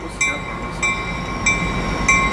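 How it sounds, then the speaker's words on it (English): A Coaster commuter train rolls into the Santa Fe Depot station with a rumbling drone and periodic clacks from wheels over rail joints, steady and fairly close. "our first train as you roll into here is this coaster."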